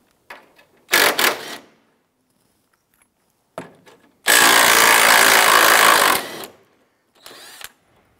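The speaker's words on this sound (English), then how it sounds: "Using a 15-16 socket, we're going to remove the two bolts on the driver's side on our strut tower brace." A 15-16 socket backs out the driver's-side strut tower brace bolts on a 2005-2007 Ford Five Hundred, heard as a short ratcheting burst, a longer sustained two-second run, then a brief final burst, all close with quiet gaps and no talk.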